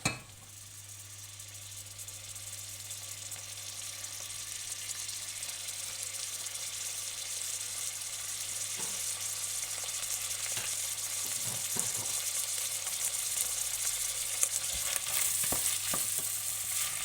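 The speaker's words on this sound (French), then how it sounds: "Alors je vais allumer. Donc j'y mets mes oignons." Onions fry in sunflower oil with a constant soft crackle and sizzle, faint and steady throughout, with a few quiet clicks and stirring sounds.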